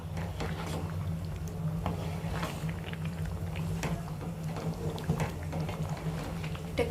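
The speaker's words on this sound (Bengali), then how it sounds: "এবার একটু হালকা হাতে মায়টাকে নেড়ে চেড়ে মিশিয়ে নেবে" A paneer curry with fresh cream, mint and coriander is stirred gently, giving a soft, steady bubbling and wet swishing that stays close and quiet throughout, with an occasional light tap of the utensil.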